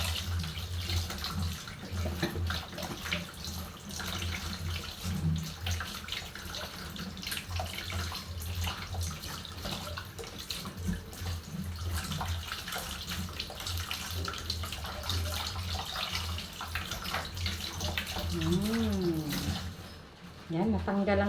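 Tap water runs steadily while milkfish (bangus) is rinsed clean for paksiw, a continuous moderate splashing stream lasting throughout with small handling noises, ending with a brief drop as the flow changes.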